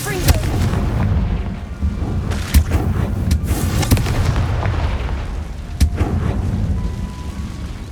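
A Confringo fire spell from a Harry Potter video game bursts several times, giving sharp booms at irregular intervals over a steady, dense rumble of game effects.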